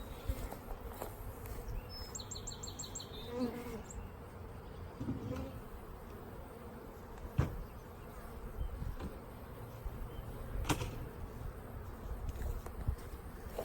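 Honey bees buzz at an open beehive with single brood chambers and a queen excluder, a steady low insect hum with brief louder bursts as bees pass close by, occasional knocks and handling sounds.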